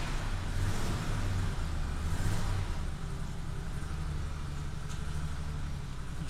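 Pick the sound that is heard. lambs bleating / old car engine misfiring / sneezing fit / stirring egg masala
old car engine misfiring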